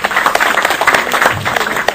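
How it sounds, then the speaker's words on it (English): An audience at a talk gives a round of applause, a dense, fairly loud burst of clapping that carries on steadily for a couple of seconds. "Give him a round of applause."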